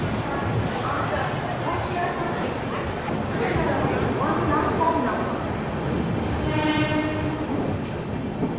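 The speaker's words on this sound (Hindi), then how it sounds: "चलिए निकल गई अपनी पंजाब मेल मथुरा जंक्शन से।" Punjab Mail train pulling out of Mathura Junction, rolling rail noise with a horn near the end, dogs barking and people talking over it on the platform.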